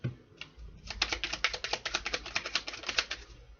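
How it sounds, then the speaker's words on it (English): Tarot cards are riffle-shuffled up close, a quick run of crisp, rattling clicks that lasts about three seconds, with no talking. "Alright, let's just shuffle these."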